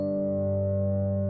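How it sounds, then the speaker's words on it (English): A steady, sustained interval of a fifth held over a continuous drone, with smooth, unchanging harmonic tones and no voice. "This is the sound of a 5th."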